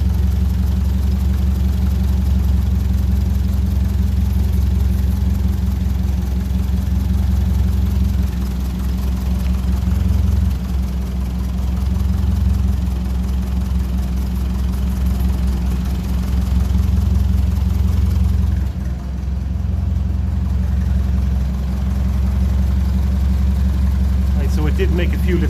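A steady, low engine idle from a 1957 Ferguson 35 TVO tractor running rich chugs continuously throughout, a deep rumbling drone with slight unevenness and no talking.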